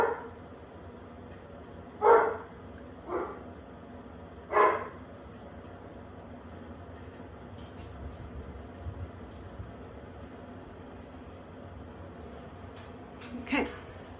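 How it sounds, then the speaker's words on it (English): A dog barks a few times at a distance, three sharp barks early on and another near the end, over a quiet, steady background hum. "I don't know what the dog's barking at."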